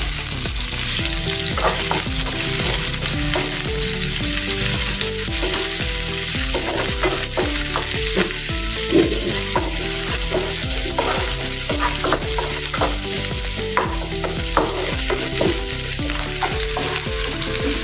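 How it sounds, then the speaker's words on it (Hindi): Finely chopped onion frying in a pan with mustard seeds and cumin, the start of a ridge gourd and potato curry: a steady, close sizzle with stirring scrapes throughout, heard alone with no talking. "अभी जीरा डालेंगे 1 चम्मच और इसमें अभी हम प्याज डालेंगे बारीक कटा हुआ"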